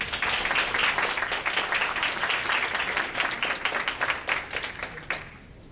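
Audience at a 2013 pharma talk by the Global Health Council applauds a speaker being welcomed on stage, a dense, steady burst of many hands clapping that fades out over the last second.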